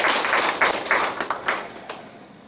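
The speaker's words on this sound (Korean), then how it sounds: "박수 한번 주시죠" Brief applause from a classroom audience, a scattered patter of hands clapping that swells and fades over a couple of seconds, fairly distant and soft with no talking over it.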